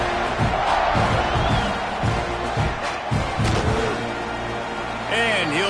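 A football stadium crowd at the Houston vs Texas A&M game roars steadily with scattered thumps and shouts, while a voice talks over the noise.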